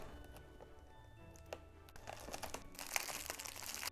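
Packaging on a Harry Potter Funko Pop advent calendar crinkles as a window is opened, with quiet rustles and taps that swell into louder crumpling toward the end.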